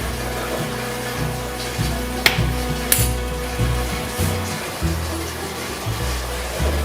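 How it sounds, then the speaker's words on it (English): A utensil scrapes along the bottom of a hot pan in an Instant Pot while pork tenderloin cooks, giving repeated rough, low scraping strokes close by over a steady background hum, with no talking. "You just kind of scrape along the bottom here till you get it all loosened up."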